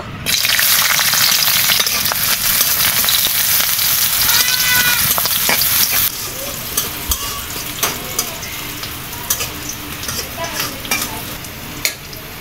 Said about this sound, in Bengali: এখন কাঁচামরিচ আর পেঁয়াজ একসাথে দিয়ে দিব।